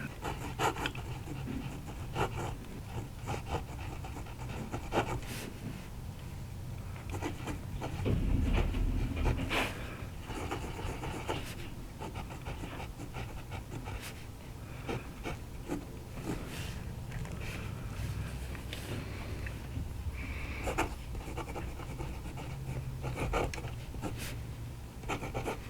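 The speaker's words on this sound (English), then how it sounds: "Let's do a little bit more writing, and we'll conclude this video." Yongseng 3024 fountain pen with a fine steel nib writing on paper, faint scratchy strokes and light taps in an irregular rhythm, close and quiet.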